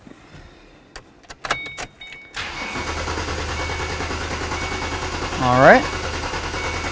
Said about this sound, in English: So now we're just going to start up the vehicle and we're going to wait for it to die out.